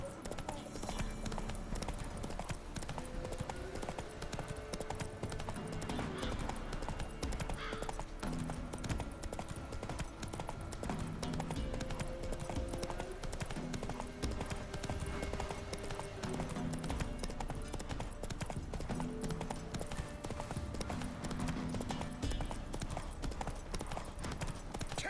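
Roach, a horse in The Witcher video game, trots with steady, continuous clip-clop hooves throughout, under game music and voices talking.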